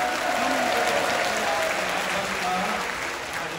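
A church congregation bursts into sustained applause for the pastor, a dense steady wash of many hands clapping that stays loud throughout, with faint voices beneath.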